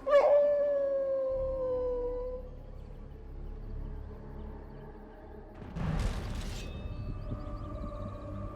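A White Wolf in Dragon Age: Origins lets out a long, clear howl that slides downward and fades, followed by a burst of noisy game sound effects and a second, softer howl-like tone near the end.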